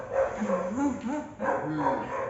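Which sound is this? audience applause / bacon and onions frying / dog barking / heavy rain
dog barking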